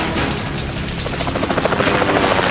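A helicopter in an action TV series roars loudly and steadily, close by, with a rotor thump that grows slightly stronger and more pulsing toward the end. No voices are heard.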